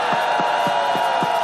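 Dense crowd applause at an outdoor candlelight rally, a loud continuous wash of clapping with a few rhythmic low thumps pulsing underneath, steady throughout.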